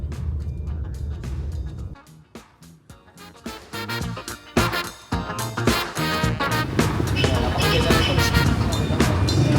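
Loud street traffic with tricycles and jeepneys passing close by, engines droning and rising, with short horn toots and voices mixed into the busy roar.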